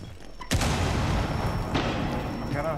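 A grenade going off in the tactical shooter Rainbow Six Siege: one sudden loud blast followed by a sustained roar of debris and noise, with a second smaller burst shortly after.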